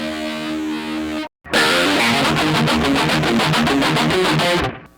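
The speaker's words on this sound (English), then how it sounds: "In the second chorus, the guitar plays the same hammer-on riff" Distorted electric guitar plays a hammer-on riff, loud and dense, with a brief cut of silence near the start before the riff resumes and rings on alone.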